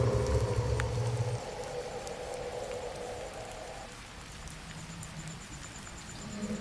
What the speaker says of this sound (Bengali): কি বৃষ্টি হচ্ছে বাইরে